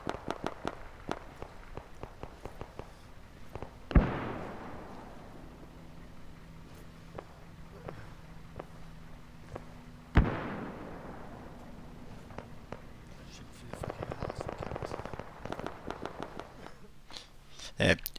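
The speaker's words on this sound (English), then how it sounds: "Some guy from over there shooting at me." Arma 3 gunfire rings out as two sharp, loud shots several seconds apart, each trailing into a long echo, with faint clicks and rustling in between and a burst of busier noise near the end.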